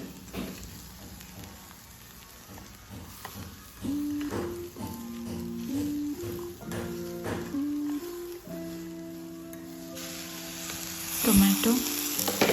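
Coconut and masala frying in a pan for green chicken masala, a steady soft sizzle with light stirring scrapes and a few clinks, growing busier toward the end.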